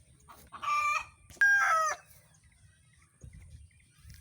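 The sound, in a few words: bantam chickens clucking and rooster crowing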